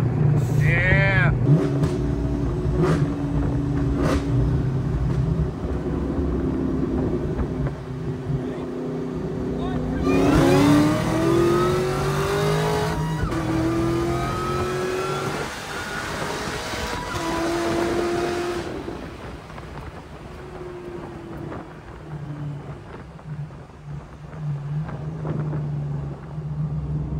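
Supercharged car on nitrous making a full-effort run, its engine note climbing hard as it accelerates, loud and heavily buffeted by wind noise, then easing off into a rumbling idle.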